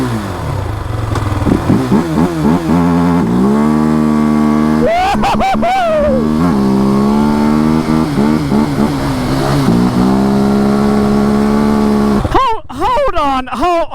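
A Can-Am DS450 ATV engine revs hard at full throttle from a holeshot, climbing through rapid upshifts and bouncing off the limiter, loud and close, with a voice shouting near the end.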